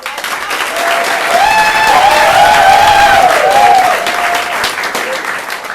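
Audience applause fills a comedy show venue, building to a steady, loud wash of clapping before easing off. A faint whistle or cheer rides over the clapping.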